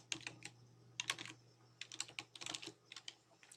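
Fingers tap on a computer keyboard in quick irregular bursts of clicks, close and fairly quiet, with a low steady hum beneath.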